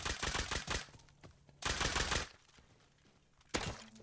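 Nail gun fire in the survival video game Rust, bursts of rapid close shots in clustered volleys, the first two long and dense, then a lull before a short final burst.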